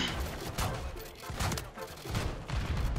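Gunfire in a Call of Duty: Modern Warfare 3 public match, rapid bursts of automatic shots in several clusters, loud and close, with some background noise between volleys.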